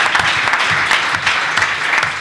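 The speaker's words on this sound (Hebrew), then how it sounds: "רק על זה מגיעות לך עוד פעם מחיאות כפיים סוערות" Audience applause at a startup event at the Hebrew University in Jerusalem, a close, loud burst of clapping with a steady, slightly rhythmic patter that fills the whole stretch.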